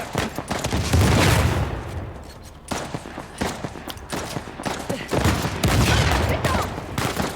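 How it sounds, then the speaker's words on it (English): Heavy gunfire and RPG blasts from the Uncharted: The Lost Legacy video game hammer on almost without a break, with dense overlapping volleys and booming impacts that are loud and close. "Someone's firing an RPG round at us."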